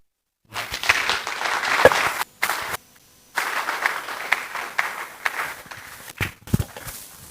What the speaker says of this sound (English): Please, let's be generous with our hand clap.